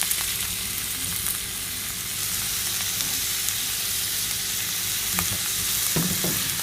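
Razor clams stir-fried with curry paste in a hot pan, a loud continuous sizzle and frying hiss running throughout, with occasional clinks and scrapes of a stirring utensil, close up and without speech.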